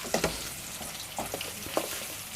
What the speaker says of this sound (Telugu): పచ్చిమిరపకాయలు ప్లస్ ఆనియన్స్ అయితే వేసేసుకుంటున్నాను